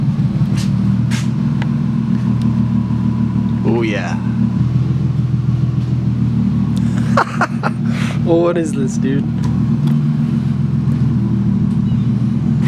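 A car with an RB engine idles loudly with a steady low rumble throughout, with a couple of brief revs rising over it while people talk nearby.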